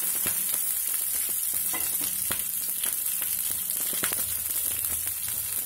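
Cauliflower pieces for gobi manchurian fry in hot oil with a steady close sizzle, sharp pops and crackles breaking through the constant hiss.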